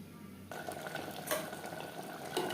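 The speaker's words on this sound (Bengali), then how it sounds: "হাই টু মিডিয়াম ফ্লেমে মাংস কষিয়ে নেব" Mutton sautéing in a pan over a gas flame at medium heat, a steady close sizzle that swells after a quiet start, with faint scraping of stirring and no voices.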